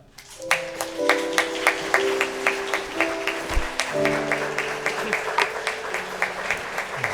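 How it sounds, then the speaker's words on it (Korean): Wedding guests in a grand ballroom clap as the groom's parents make their entrance, steady applause swelling from a scattered start to a full room alongside sustained music, with a voice speaking over it. "큰 박수로 환영해 주시기 바랍니다"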